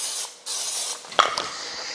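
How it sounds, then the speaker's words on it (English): Pam cooking spray hisses onto chicken in two bursts, a short spray then a longer one, ending with a small click of the can. "I'm going to spray them with a little bit of Pam"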